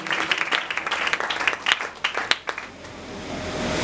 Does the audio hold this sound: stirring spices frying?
no